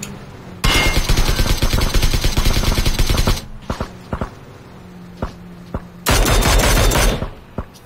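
Automatic gunfire in the video game PUBG: two long, loud bursts of rapid shots separated by a few scattered single cracks and footstep-like taps, with no voices over them.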